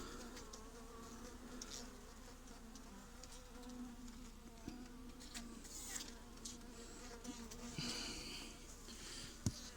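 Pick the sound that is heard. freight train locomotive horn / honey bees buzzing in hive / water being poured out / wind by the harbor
honey bees buzzing in hive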